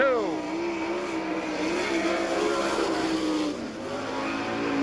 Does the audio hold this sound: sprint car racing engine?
yes